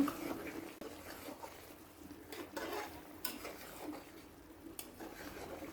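Prawns being stirred in a cooking pot for a coconut milk prawn and lati bhuna, with faint scraping and clinking of a spoon against metal over a soft, low simmer.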